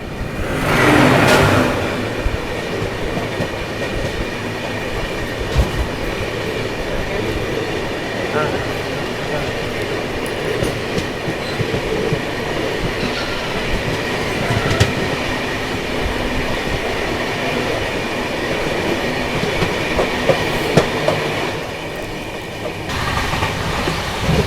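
Passenger express train 17423 from Tirupati to Chikkamagaluru, hauled by a WDG4 diesel locomotive near Birur Junction, runs on rails with a steady, loud rolling rumble and rattle of wagons that continues for the whole stretch.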